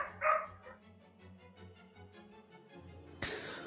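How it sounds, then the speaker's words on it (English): A neighbor's dog barks in a short burst early on, then fainter yips and whimpers trail off over a low steady background hum with no talking. "Oh man, my neighbor's dog is really,"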